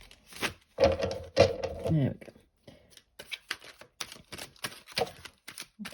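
A deck of tarot cards is shuffled in quick papery riffles and taps, and a few cards slip and fall, while someone speaks briefly between the bursts.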